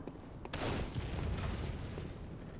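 Gunfire in the Bloodborne video game, a sharp crack followed by a dense, booming burst of blasts that rumbles on for about two seconds, loud and close with no speech over it.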